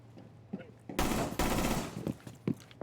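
Video game gunfire during a multiplayer match: a loud, dense burst of automatic shots lasting about a second, followed by scattered shots and game noise, with players' voices faint in the background.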